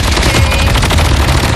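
Rapid, loud bursts of automatic gunfire at a firing range in a video game, dense and continuous close shots filling the moment.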